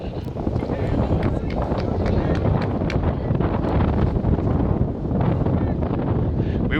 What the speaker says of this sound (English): We weren't kidding when we said it was windy.